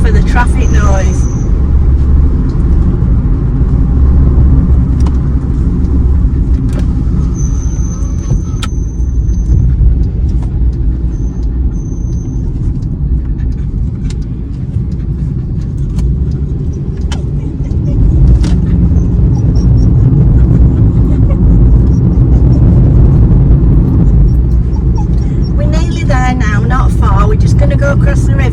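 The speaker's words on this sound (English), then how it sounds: "I bet you can't hear me for the traffic noise." Continuous heavy road traffic rumbles close by as cars pass, a loud steady roar that nearly drowns out someone talking over it.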